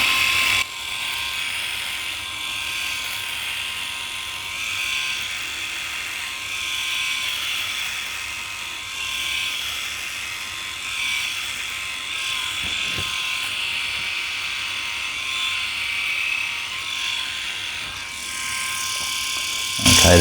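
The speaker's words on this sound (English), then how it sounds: "so I'm going to push the shaver that way." A rotary electric shaver buzzes steadily at close range for the whole stretch, a continuous high whirring hum with slight shifts in pitch as it moves across skin, and no talk over it.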